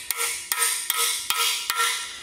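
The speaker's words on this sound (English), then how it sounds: "put our socket inside of the plug and then just give it some taps" A socket is tapped with a hammer to drive a freeze plug into an engine block. Five evenly spaced metallic knocks ring out close and clear, each with a short ringing tail.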